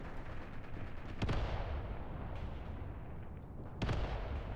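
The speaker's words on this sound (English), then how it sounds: "We can see the mortars are working on where I wanted them to go." Mortar rounds firing and landing in the WWII strategy game Mius Front, two sharp booming blasts about two and a half seconds apart over a constant low rumble of distant battle.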